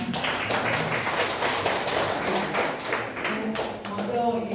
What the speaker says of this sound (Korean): 우리 강사님께 한 번 더 박수 부탁드립니다